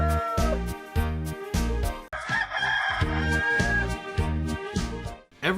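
A rooster crows at the start of a Thomas & Friends song, bright and drawn-out over a bouncy musical backing with a steady beat, the crow standing out clearly near the top of the music.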